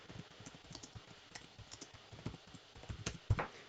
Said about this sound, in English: Down here, I get to type in my answer